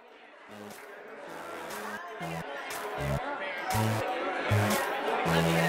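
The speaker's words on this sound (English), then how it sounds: "the crowd's a bit intense." A dense crowd babbles in the background of an audio drama scene, a steady hum of overlapping voices that grows slightly louder over time, with distinct nearby voices standing out.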